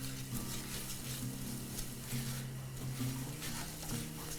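Tomato paste sizzles steadily in a pot over medium-low heat while being stirred, giving a constant close frying hiss with faint scraping and no talk.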